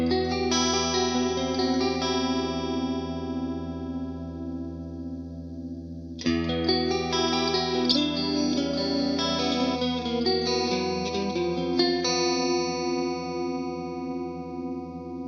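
Fender Player Plus electric guitar with all three pickups switched on at once, producing a bright, full, almost acoustic-like chiming tone; sustained strummed chords ring out with a slight chorus shimmer, a fresh strum at six seconds, no talking.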